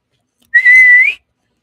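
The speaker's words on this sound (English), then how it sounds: "He raised a hand and Guangshanhai whistled." A human narrator performs a loud whistle: one clear, sustained tone that rises slightly and lasts about half a second, with silence before and after.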